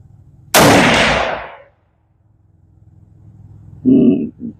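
A single loud rifle shot from a Nosler Whitetail Country .400 Legend load cracks sharply and rings off over about a second, followed later by a short voice.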